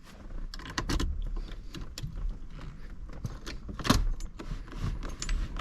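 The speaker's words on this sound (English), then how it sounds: "We're going to one more time put our keys in." Keys jangling and clicking against a GM steering column as they go into the ignition cylinder, a run of close metallic rattles and taps with one sharper click near the middle, no voices.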